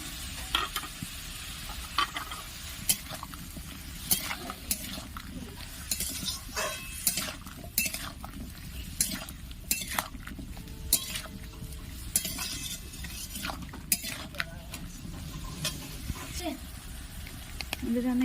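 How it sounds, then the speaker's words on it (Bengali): A spoon stirs chili powder into a sizzling Bengali bottle gourd and red lentil curry, with steady frying hiss and repeated metallic clinks and scrapes against the pan, close up and continuous. "এটাকে বেশ নাড়িয়ে নেব।"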